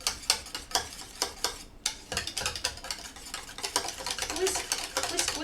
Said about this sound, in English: Whisk, whisk, whisk, whisk, whisk, whisk, whisk.